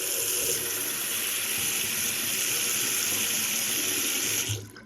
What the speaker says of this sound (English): That's rainwater, by the way, I've saved in tanks.